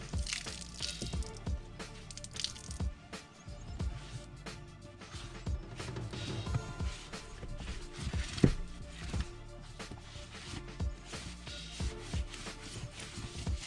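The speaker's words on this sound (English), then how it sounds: "So I started cleaning this up with just a regular paper towel" A paper towel wipes and squishes water off a rubber floor mat in a 2020 Toyota Tundra TRD Pro, with faint irregular rubbing and wet squelching strokes, quiet and close.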